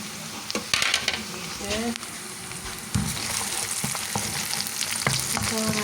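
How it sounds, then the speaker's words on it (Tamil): Green chilies sauté and sizzle in a hot pan for a cabbage and egg dish, with a steady frying hiss, a few sharp crackles and occasional scrapes of a stirring spoon against the pan. "சித்தமிளகாய் கொஞ்சம் வதங்கத்தான வேணும்"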